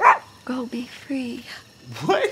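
A dog in a scene from Atlanta season 3 episode 1 gives short yips and whimpering barks, mixed in with people talking close by.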